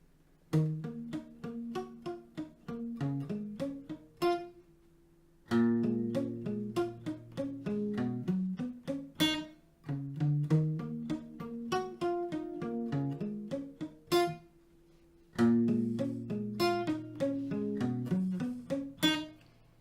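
A guitar plays an upbeat riff with plucked, repeating chord patterns, pausing briefly between phrases, close and clear with no voices.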